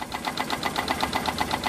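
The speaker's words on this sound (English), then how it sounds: "Soon the new generator started and the fairground lit up again." A generator engine runs at a fairground in an animated children's story, chugging in a fast, even rhythm of knocking pulses at moderate loudness, steady throughout with no voices.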